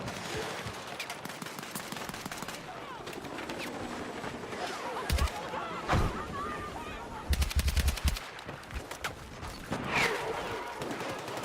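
Bursts of automatic and single-shot gunfire in the shooter game Battlefield 6, rattling at varying distances through a busy battlefield mix, with louder close volleys around the middle and near the end.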